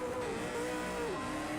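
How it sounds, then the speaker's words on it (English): The Ford Falcon race car in Project Cars 2 on a wet track gives a continuous, loud engine drone whose pitch rises steadily, drops sharply with a gear change, then climbs again. "these cars sound good. I know this is the Falcon, but geez, it sounds great"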